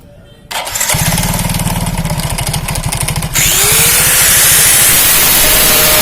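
A Yamaha Mio scooter engine, worked on for a stripped crankshaft thread, cranks with a fast rhythmic starter chug and then catches, settling into a loud, steady, close idle with no talk over it.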